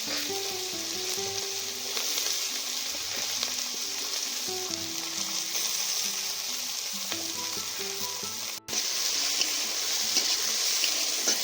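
Onions frying in hot oil for a fish curry at an outdoor jungle campsite, the oil already used for frying fish; a loud, steady sizzle runs throughout with faint stirring clinks and one brief dropout near the end.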